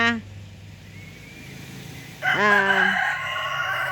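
A white rooster crows once, loud and close, its drawn-out call rising over a quiet yard hum after a soft stretch of background noise.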